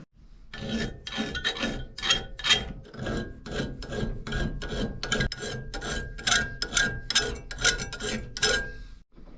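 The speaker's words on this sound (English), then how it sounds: "we're going to use that flat file and a little bit of sandpaper" A flat file worked by hand across a copper spoon during cleanup shaping, a steady run of rasping strokes, close and fairly loud, each pass distinct with brief gaps between, and no voices.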